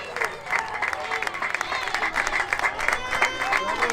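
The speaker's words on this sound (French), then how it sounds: "On les applaudit bien fort, ils sont deuxième." Crowd at a youth under-11 football tournament applauding the runner-up team, uneven outdoor clapping mixed with cheering and background chatter, with voices speaking over it.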